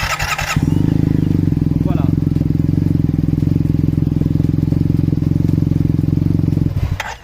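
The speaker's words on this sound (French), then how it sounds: "est-ce que tu peux démarrer le scooter s'il te plaît?" A Yamaha T-max scooter engine starts and then idles in a steady, loud, close, even rumble for several seconds before cutting off, with a short spoken word at the start.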